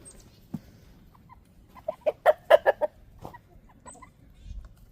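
Backyard chickens outdoors in the snow give a short burst of rhythmic clucks, fairly close but soft, with a few faint scattered calls before and after against a quiet background.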